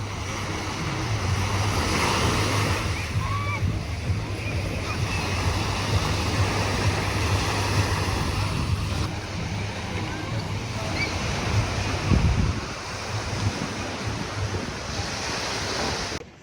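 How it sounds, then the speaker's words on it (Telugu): Waves wash steadily onto a small harbour beach at Shark Beach in Sydney, a continuous close surf roar with gusts of wind buffeting the microphone throughout and no talking. "మంచి ఒక చిన్న బీచ్ ఉంది."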